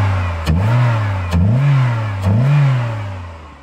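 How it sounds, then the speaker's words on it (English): A Geo Storm with a swapped 52mm SOHC throttle body revs loudly three times in a row, each sharp stab of throttle lifting the engine note briefly before it drops back toward idle. "let's see what happens when I hit the throttle"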